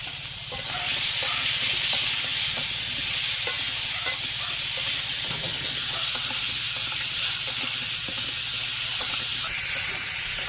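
Green chilies and spices frying in hot oil for a fish curry with bottle gourd, a steady, loud, continuous sizzle and hiss close up, with no talking.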